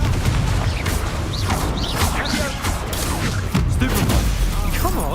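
Dense, continuous spell effects from Hogwarts Legacy combat, Confringo and Stupefy among them, with crackling bursts, whooshing swept tones and impacts layered over a rumbling battle bed, and a voice speaking intermittently under the noise.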